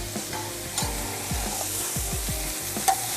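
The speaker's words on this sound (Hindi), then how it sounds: "मसाले के साथ खूब अच्छा सा कीमे को भून लेंगे" Minced meat with coriander powder and other spices fries on high heat for tawa keema under a loud, close sizzle. Quick, repeated scraping strokes of the spatula mark the stirring, with no one speaking.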